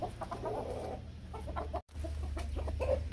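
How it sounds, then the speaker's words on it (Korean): Hens fighting over pecking order in a backyard flock, with a rooster nearby: continuous agitated clucking and squawking at close range, a brief cut partway through, then more clucking. "암탉들의 서열 싸움이 엄청 나네요."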